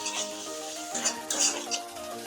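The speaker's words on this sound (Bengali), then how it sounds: "মশলাটা ভালো করে কষিয়ে নেব।" Spice paste with chili powder, green chilies and coriander powder sizzling and frying in a pan for a tangra fish curry, with steady hiss and occasional stirring scrapes, close and moderately loud.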